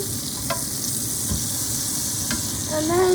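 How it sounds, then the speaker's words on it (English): A steak sizzles steadily in a hot frying pan, a loud continuous crackling hiss with a brief scrape as it is turned, while someone speaks briefly near the end. "For a little bit on one side, we're going to flip the steak again"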